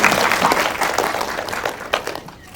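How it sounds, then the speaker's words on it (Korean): Brief applause from a cinema audience at a post-screening talk with the cast and director, a steady patter of many hands that carries through and tapers slightly at the end. "박수"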